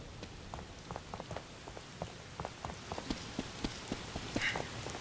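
Rain falls in the video game The Evil Within as a soft, continuous patter of drops on surfaces. It is quiet and even throughout, with scattered sharper drips and no voices.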